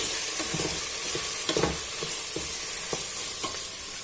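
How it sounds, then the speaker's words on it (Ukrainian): Mushrooms and onion fry together in a pan with a steady close sizzle, punctuated by several soft knocks and scrapes of stirring at irregular intervals, no voices. "бачите, смажаться грибочки разом з цибулькою"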